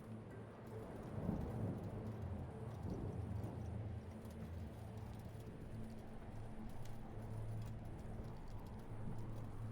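A lunar ice storm of steady rain with low rumbles of thunder, a continuous even wash of falling rain with deep rolling undertones, moderately faint and without voices.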